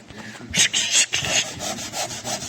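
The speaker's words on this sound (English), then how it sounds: "take the sander and just go back and forth" A handheld sander scrubs back and forth over wood filler patched into the floor of a Lund aluminium boat, giving a steady rasping, rubbing texture with rhythmic strokes, close and moderately loud, with no talking.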